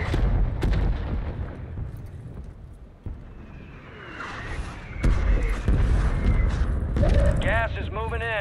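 Mortar strike called in during an online shooter game, with sharp blasts and booming impacts over rumbling in-game noise and mechanical clatter, under steady spoken commentary.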